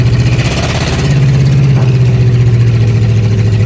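A Suzuki Samurai fitted with a 440 big block engine runs nearby and loud, holding a deep, throbbing, steady rumble that rises slightly in revs partway through, with no talk over it.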